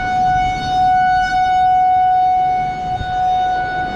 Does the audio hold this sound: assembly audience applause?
no